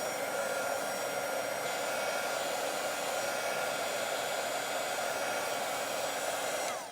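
A hair dryer drying a watercolor painting blows in a steady, loud, close whoosh with a constant motor whine, running alone without any talking until it cuts off at the end.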